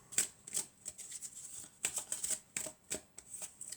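Oracle cards shuffled and handled at close range, a quick run of crisp papery riffles and flicks in uneven bursts, with no voices.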